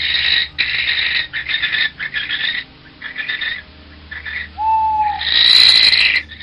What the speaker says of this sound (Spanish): Ese maldito avechucho, llamado por otro nombre lechuza, sírveme de mensajero todas las noches anunciando desde los nogales inmediatos mi